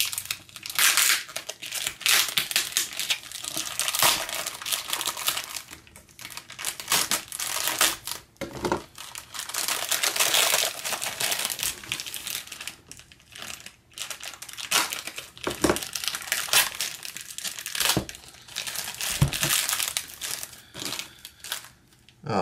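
Packaging is unwrapped from a Folio Society book, with close, continuous crinkling and crumpling plus occasional tearing and rustling. No one speaks.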